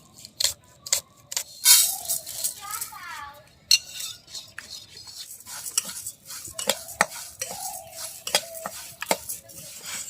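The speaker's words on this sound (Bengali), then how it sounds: "পেঁয়াজ কাঁচামরিচগুলো আমি কুচি কুচি করে কেটে নিচ্ছি।" A knife chops onions and green chilies on a board in a home kitchen, giving a series of sharp, irregular taps with light utensil clatter between strokes.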